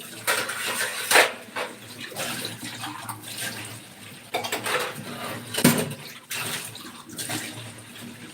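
Dishes clatter and clink while being washed, with scattered metallic knocks of pots and utensils over running, splashing water, close by and irregular.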